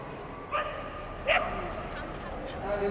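Dog at the Crufts 2002 team agility final gives two short barks in an arena, heard over steady crowd noise and commentary.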